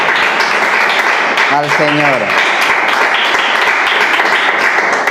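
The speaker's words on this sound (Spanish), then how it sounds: "vamos a darle un aplauso" A church congregation applauds loudly and continuously at a Spanish-language service, with a brief spoken phrase over the clapping.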